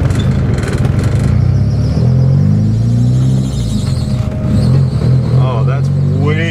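A cheap Porsche engine idles steadily with a rough, droning rumble. A noisy belt adds a squealing whine, and someone talks over the running motor.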